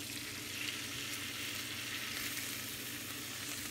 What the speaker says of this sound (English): I'm going to add my milk so these sausages can rehydrate